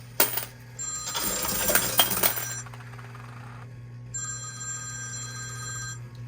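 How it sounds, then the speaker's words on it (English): Coins clatter and chink inside a coin pusher machine, then the machine's electronic phone ring sounds clearly in steady repeated tones near the end. "There's that phone call."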